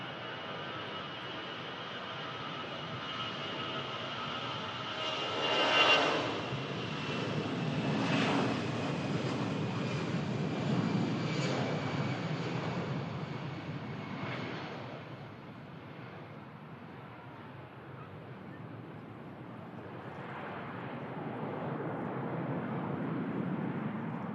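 EasyJet jet airliner bound for Amsterdam taking off from runway 05 left at Manchester Airport, a steady broadband engine roar that swells as the engines spool up, then lingers and slowly shifts as the aircraft rolls away at a distance.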